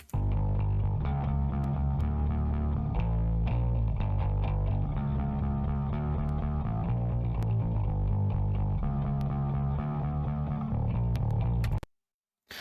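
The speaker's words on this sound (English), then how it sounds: "But this is what the bass sounds like" A distorted electric bass plays alone in a metal cover track, thick, gritty and sustained with a steady riff. It runs loud and continuous, then cuts off abruptly near the end.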